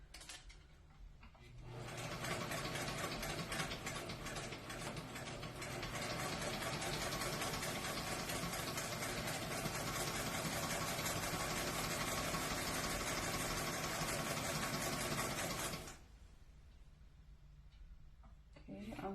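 A sewing machine stitches a centered zipper into a garment, starting after a short pause and whirring continuously at an even, close hum for about fourteen seconds before stopping, with quieter stretches on either side.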